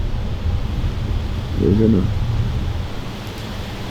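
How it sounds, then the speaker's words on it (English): Strong, steady wind of about twenty miles an hour, gusting near forty, roars through trees at a deer stand in Illinois, loud and constant. Someone briefly speaks under the noise. "The wind's blowing like crazy, probably 20 mile an hour constant."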